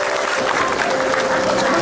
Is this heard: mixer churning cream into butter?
no